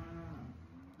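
Cattle kept inside a barn for the winter give a low, drawn-out moo lasting about a second, close and steady with a pitch that wavers and falls slightly, faint in level and with no talk.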